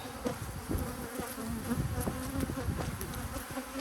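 Honeybees buzz densely in an opened hive during a split with queen excluders, a close, constant swarm drone with individual bees whirring past.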